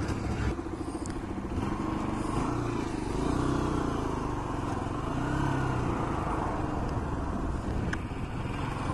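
A motorcycle being ridden on a short trial run, its engine droning steadily and close by with a slight rise in revs partway through, alone without talk.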